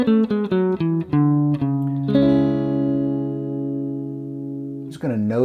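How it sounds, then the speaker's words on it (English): A Phrygian-mode scale on a sustained, tone-rich instrument, starting with a run of short separated notes, then a long held chord-like note that rings out before a brief shift near the end; no talking. "The third mode is called Phrygian. It starts obviously on the 3rd note. Here's the way it sounds, and it's also a minor scale."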